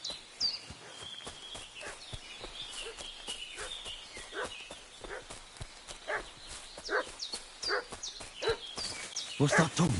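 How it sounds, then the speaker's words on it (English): A dog barking repeatedly in a village setting in Kingdom Come Deliverance 2, sharp yelps scattered across the scene with hoof clip-clops and a voice talking underneath, growing louder toward the end. "What's that dog making such a fuss about?"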